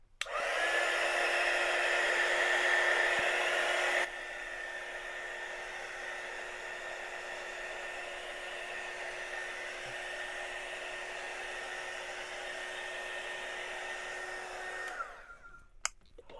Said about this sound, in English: I'm just going to hit this with the dryer.